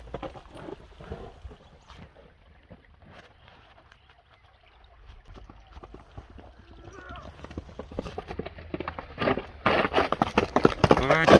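Horse hooves clip-clopping as the horse runs, a quick rhythmic patter that grows louder and nearer toward the end, with people talking over it.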